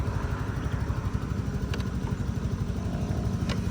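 A Euro Motor EZ 125i motorcycle engine runs with a steady, fairly quiet idle rumble throughout, low and even with a faint rhythmic pulse and occasional small ticks, no voices.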